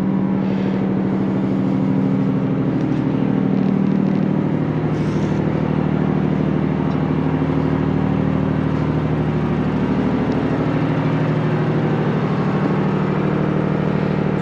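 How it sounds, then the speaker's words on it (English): Loud diesel engine of a Nugget work vehicle fitted with a winch, running steadily and close by with a constant low drone and slight variations in tone throughout. "That's the loud one. That's the one that uses quite a lot of petrol. Actually diesel."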